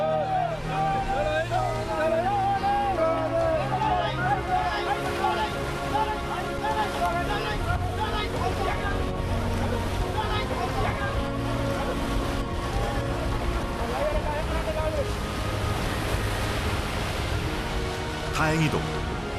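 A small fishing boat pushes through high ocean waves off Africa, engine drone mixed with washing surf and wind, while voices and a narrator talk over the noise.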